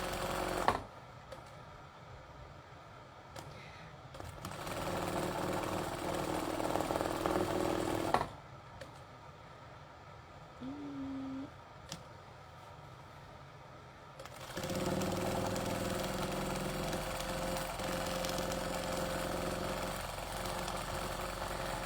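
A fast sewing machine stitches decoration onto a book cover, running in bursts of steady, high-speed whirring broken by brief pauses, close and fairly quiet.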